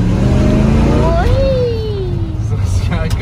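A 1957 Chevrolet 3100 short-bed stepside pickup pulls hard in first gear, its engine note climbing loud and close before easing off and settling back as it shifts down.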